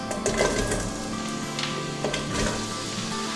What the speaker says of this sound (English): We're going to start off with adding our onions and our carrots.